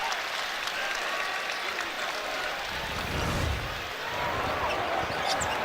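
A college basketball crowd at Auburn versus Saint Louis gives a steady ovation as an injured player gets back up. Broad, sustained clapping and crowd noise fill the arena, with a thud of a bouncing ball partway through.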